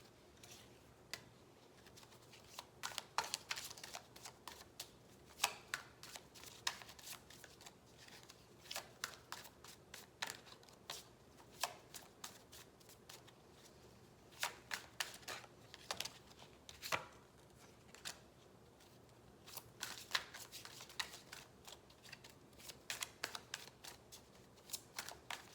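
Tarot cards are shuffled by hand in a quiet room, with soft repeated riffling clicks and flicks arriving in irregular clusters, faint and close.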